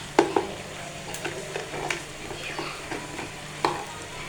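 Okra being stirred with red chili powder and garam masala in a pan over a low sizzle, with several distinct spatula knocks and scrapes at irregular intervals.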